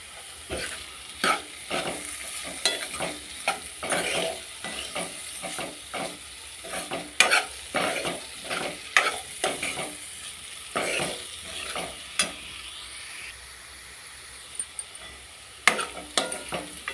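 Carrot curry with ginger and turmeric being stirred in a hot pan: repeated scraping strokes of a spoon in an uneven rhythm over a soft continuous sizzle, close and alone.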